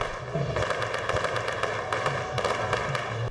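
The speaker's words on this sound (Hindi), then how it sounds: "जियालों ने जश्न मनाया, आतिशबाजी की।" Fireworks at a political victory celebration in Pakistan crackle and pop continuously, a dense run of bright bursts and sharp bangs layered over a steady roar, loud and close.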